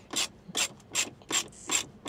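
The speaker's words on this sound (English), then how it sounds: "now you have two T20 Torx here that you have to remove. So we're gonna do that right now." Two T20 Torx screws being backed out of a car radio in a 2006-2011 Mercedes-Benz ML350 W164 dashboard, giving five evenly spaced ratcheting scrapes of the driver, each about a quarter second long, close and clear with no talking.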